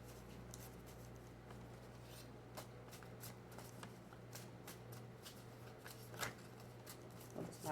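Tarot cards are shuffled and handled close by, soft riffling and scattered light flicks and taps over a steady low hum, quiet throughout with a few sharper card snaps near the end and no talking.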